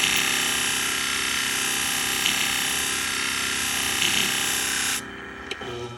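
Salon shear blade being sharpened on a powered sharpening wheel to raise a burr, a steady loud grinding hum running continuously for about five seconds before cutting off, with faint handling noises after.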